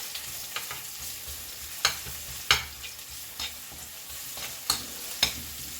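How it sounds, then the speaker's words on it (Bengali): Chopped garlic fries in a pan with a soft, steady sizzle, punctuated by sharp scrapes and taps of a spatula stirring it every second or so, with no speech. "রসুন কুচি করে নিয়েছি আগে একটু দিয়ে দিই ভাজা হোক"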